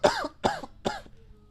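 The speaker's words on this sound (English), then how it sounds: "I do that when I'm coughing real hard." A person coughs hard three times in quick succession, loud and close, each cough harsh and voiced, with a short quiet tail after.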